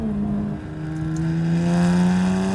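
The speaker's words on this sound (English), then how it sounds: "it's almost like the turbos and the blow-off valves are kind of competing with the exhaust" Tuned 450 hp BMW 135i with the N54 twin-turbo engine, holding a loud, steady droning exhaust note that climbs slightly in pitch as it pulls, heard up close with no voices.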